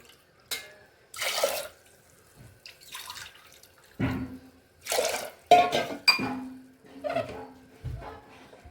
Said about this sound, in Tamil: இப்போது ஒரு ரெண்டரை டம்ளர் தண்ணி அதில் ஊற்றணும்